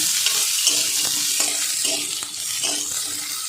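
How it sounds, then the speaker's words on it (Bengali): Potatoes and chopped onion fry in oil, giving a loud, continuous close sizzle with rhythmic stirring strokes throughout. "আলু পেঁয়াজটা কিন্তু ভাজা হয়ে গেছে"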